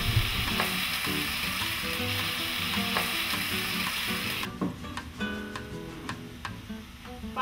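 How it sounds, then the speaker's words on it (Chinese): Carrots cook in a wok with a loud steady sizzle, then a covering lid dulls it to a quieter crackle with light ticks and knocks, close and without talk. "胡萝卜焖2分钟。"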